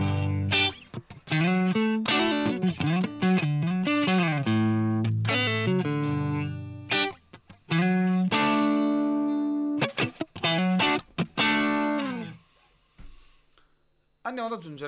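Electric guitar lead tone through Helix amp simulation, a fast run of distorted melodic notes and bends with brief pauses, played loud and alone.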